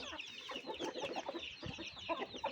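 A hen clucking repeatedly up close, a busy run of short, chattering calls.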